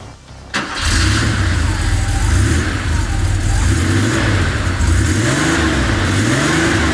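Porsche 930 Turbo engine fires up and pulls away on the road, a loud close engine note rising and falling through repeated revs after a brief quiet start.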